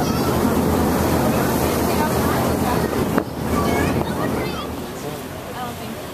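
Wind buffets the microphone over a constant rumble of a boat engine and rushing water as the boat moves along a lake; a voice is briefly heard.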